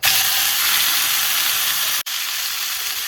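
Tri-tip sears in hot olive oil in a sauté pan, giving a loud, steady, close sizzle with a spitting hiss that drops out for an instant partway through, then carries on.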